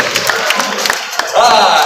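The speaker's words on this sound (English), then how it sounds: "Let's give them a big round of applause." Live stunt-show audience at Fear Factor Live applauding and cheering, bursts of clapping and shouts that swell into a louder, fuller roar near the end.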